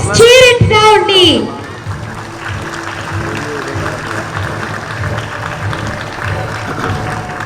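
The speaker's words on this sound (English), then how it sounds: "Give them a big round of applause." An audience claps and cheers at a school Independence Day and investiture ceremony, with a loud shouted voice over it at first, then a steady, sustained wash of applause from a large crowd.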